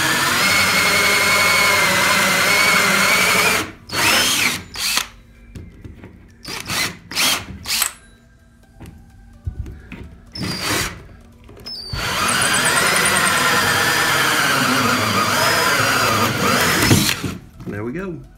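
Power drill boring slowly through two layers of plywood in an enclosed trailer, a loud close whine in long runs broken by pauses and short bursts, with someone talking in between.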